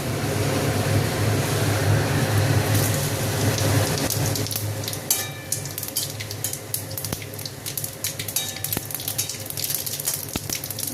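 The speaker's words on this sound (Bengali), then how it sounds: "এবার একটু জিরে ফোড়ন দেবো।" Cumin seeds crackle as they temper in hot oil in a kadai with dried chilli and bay leaf, a steady dense sizzle that starts loud and thins into scattered pops and spits, with no voices.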